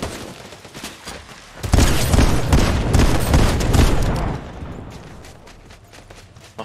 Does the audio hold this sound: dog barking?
no